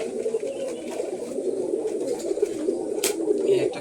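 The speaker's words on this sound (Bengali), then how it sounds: "এই একটা কবুতর" Pigeons cooing inside a closed loft, low soft coos close by and continuous across the whole moment, with a brief rustle near the end.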